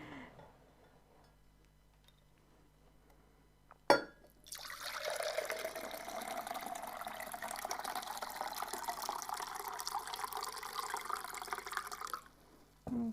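Liquid pours in a steady stream for about eight seconds after a brief knock, filling a container while making air fryer doughnuts, the flow continuous then stopping abruptly near the end.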